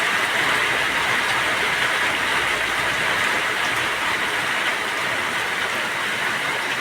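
Steady, dense hiss of heavy rain pouring down continuously, loud and unbroken throughout.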